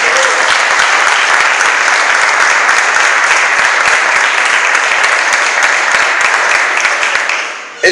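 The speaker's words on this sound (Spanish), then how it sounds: "¿Cuántos pueden darle un aplauso a eso?" A church congregation bursts into dense, sustained applause during a sermon, loud and continuous for several seconds before cutting off abruptly at the end.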